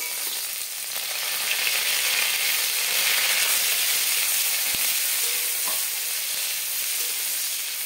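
Chopped onion fries in white oil with cinnamon, cloves and a dried red chili for a chicken dish, a loud, steady sizzle running close and continuous with occasional faint stirring scrapes and no voices.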